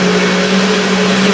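A Ninja blender whirs steadily with a droning motor hum, blending chopped green and red peppers with a small bunch of cilantro for a marinade, heard close and continuous throughout.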